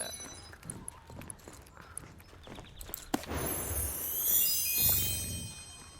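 Pony hooves clip-clop in a role-playing video game, a light rhythmic patter of steps at moderate distance mixed with other game sounds and ambience.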